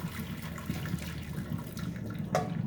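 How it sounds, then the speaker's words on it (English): Water draining from a tilted cooking pot of noodles, a continuous splashing pour into a sink with a brief louder gush near the end. "Getting all of that water out, all of it out."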